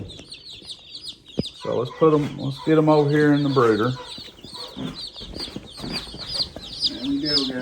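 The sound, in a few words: ducklings in a stock tank brooder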